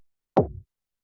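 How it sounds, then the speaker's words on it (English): A single short, punchy kick percussion hit from a dark atmospheric techno track, thudding with a quick decaying tail, alone in silence. "And then we have this little kick percussion"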